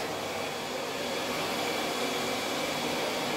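A vacuum cleaner runs indoors, giving a steady, close, broadband whooshing roar with no variation.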